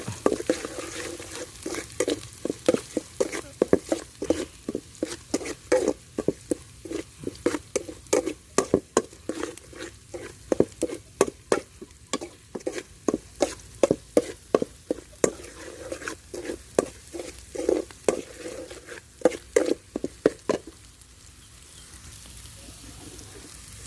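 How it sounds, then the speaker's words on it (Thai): Curry paste and softshell turtle curry ingredients dry-roasting in a hot pan, with a steady run of scraping, stirring strokes and a light crackle, fairly close and with no voices. "คั่วให้หอมๆเลยนะฮะ"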